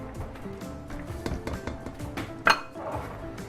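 A utensil stirs sugar, spices, salt and flour together in a bowl for an apple crisp, giving soft scraping and light clinks against the sides, with one sharper knock near the end.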